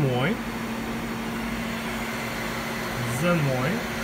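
A CNC machine's axis travels down to its machine zero, a steady mechanical hum with rising and falling motor whines at the start and again near the end as the axis moves, heard alone without talk.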